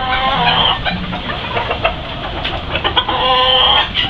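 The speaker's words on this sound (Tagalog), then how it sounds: "ayan, mga manok natin po." Chickens on a Philippine farm damaged by a typhoon cluck loudly and close by in busy, overlapping bursts, with no talking over them.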